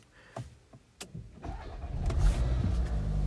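A new Volkswagen Jetta starts at the push of a button: a few soft clicks and thumps, then the engine catches and settles into a low, steady hum, close and fairly quiet.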